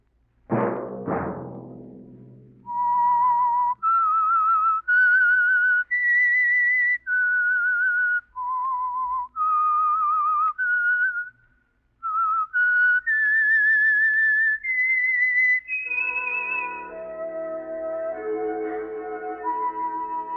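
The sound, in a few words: whistled theme tune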